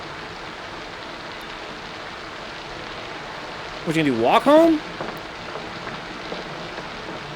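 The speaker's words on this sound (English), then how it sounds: "We're out in the rain." Steady rain falls in a 1947 film scene, an even hiss of drops that holds throughout, briefly overlaid by a voice speaking in the middle.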